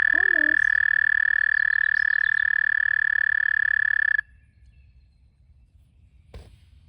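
A spring frog gives a loud, sustained high trill that runs steadily for about four seconds and then stops abruptly, leaving quiet outdoor background with one faint thump near the end.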